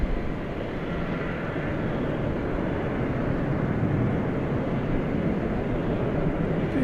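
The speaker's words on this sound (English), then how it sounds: "Turkish Dreamliner. Headed over to the east side for takeoff." A Turkish Airlines Boeing 787 Dreamliner taxis toward takeoff at DFW Airport at night, making a continuous, even jet-engine roar at moderate distance with no voices.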